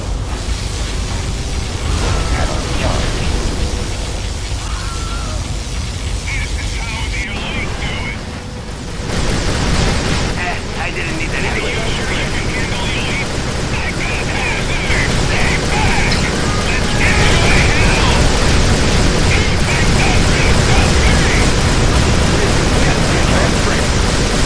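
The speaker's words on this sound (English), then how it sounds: "Particle cannon activated." Particle cannon blasts and explosions from the video game C&C Generals, a sustained roaring, rumbling wash of noise with bursts throughout, loud and dense from start to end.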